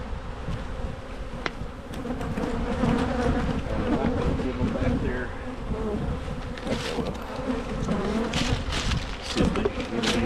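Honey bees buzz around an opened hive during a January inspection of brood frames, a dense continuous hum close by with individual bees droning past.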